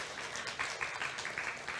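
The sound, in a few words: audience applause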